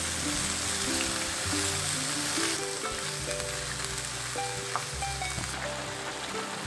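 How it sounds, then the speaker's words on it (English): Chicken hekka in sake sauce simmers over medium heat in a pan, with a close, continuous bubbling sizzle and crackle that stays fairly even throughout. "Add in the sake sauce and let it simmer on medium heat for 5 minutes."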